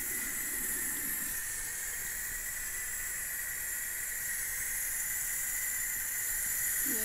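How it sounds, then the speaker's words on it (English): Water runs into a sauna bucket as a steady, quiet hiss that holds unchanged throughout, with no other sounds over it. "So now we fill with water."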